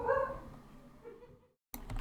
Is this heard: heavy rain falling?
no